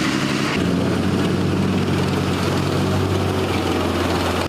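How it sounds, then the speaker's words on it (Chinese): Six M60A3 tanks moving onto a road during an army exercise give a loud, continuous heavy engine rumble with a deep low drone, close and steady with no voices. "六辆 M60A3 战车发出轰隆声响上路"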